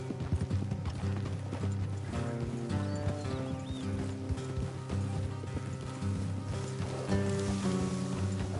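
Horse hooves clip-clop steadily at a trotting pace in the video game Red Dead Redemption, close and moderately loud, with creaking, clinking tack sounds alongside.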